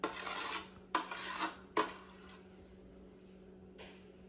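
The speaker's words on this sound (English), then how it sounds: "I have a spoon and I'm going to remove the zest" A spoon scraping zest off a lemon, three short rasping strokes close up, each a bright gritty scrape, followed by quiet and one fainter final scrape.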